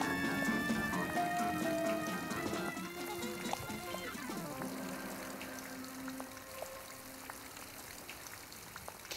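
A hand-made rain sound effect for a Hobbit stage show gives a soft, steady patter of drops and trickles, faint and continuous with some tonal ringing underneath.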